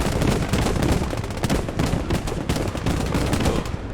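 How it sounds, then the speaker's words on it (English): Dense, loud gunfire and explosive bursts from a World War II style video game battle, with rapid repeated shots and a bazooka round striking a fence amid the continuous din. "hits the fence with the second bazooka shot"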